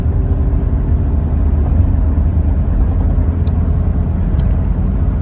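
A 2000 Jeep Cherokee Classic drives on a test drive, its engine and road noise forming a steady loud rumble and whir heard from inside the cabin, with no talk.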